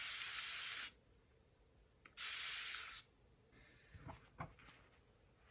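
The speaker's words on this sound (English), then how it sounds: "we're going to see if just spraying on it will make it go away" Two bursts of a spray bottle misting water onto wash-away marker on embroidery, each a loud hiss lasting about a second, followed by faint rubbing and handling noises.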